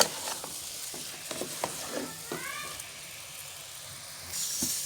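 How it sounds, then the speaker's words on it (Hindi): Grated carrot halwa frying in ghee with sugar in a pan, a soft continuous sizzle and hiss broken by a few scraping stirs, close and fairly quiet. "इसके साथ भी इसको हम 5 मिनट के लिए भूनेंगे।"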